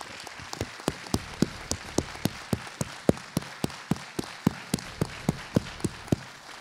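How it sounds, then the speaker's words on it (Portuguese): At a jiu-jitsu seminar, people honour the masters with rhythmic clapping in unison. About twenty sharp, evenly spaced claps ring out at a steady pace over a low room murmur. "prestem uma salva de palmas para esses mestres"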